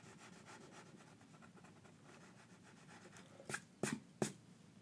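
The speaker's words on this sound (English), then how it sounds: "Now we can erase that extra line." A rubber eraser rubs out a pencil line on paper. Faint, quiet scratching builds into three or four short, distinct scrubbing strokes near the end.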